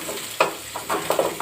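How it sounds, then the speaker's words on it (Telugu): A tempering of green chillies, onions and cumin sizzles in oil while a spoon stirs it. Close, bubbling crackles pulse in several quick bursts over a constant hiss. "తాలింపు దోరగా అవుతుంది. పచ్చిమిరపకాయలు, ఉల్లిగడ్డలు, జీలకర్ర వేసాను"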